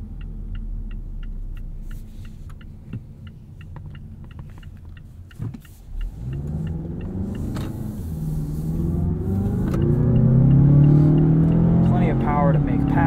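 A 2020 Mazda 6 Signature sedan accelerating along a backroad, its engine rising into a steady, swelling rumble that grows louder in the second half, with wind and road noise building around it.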